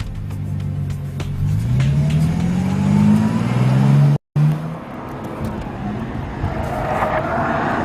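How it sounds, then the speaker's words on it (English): Bentley Continental Supersports engine accelerating hard on the Nürburgring, a loud, close roar climbing in pitch through gears with a brief cut at a shift, then settling into steady rumbling drive. "driving this new extreme Bentley around this phenomenal track"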